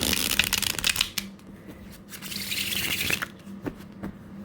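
Oracle cards being shuffled up close, a rapid papery riffling and rubbing that pauses briefly, then resumes with a few soft taps.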